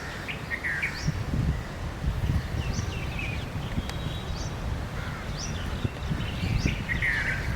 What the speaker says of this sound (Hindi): ये जो कॉल है ये रेड वेंटेड बुलबुल की है।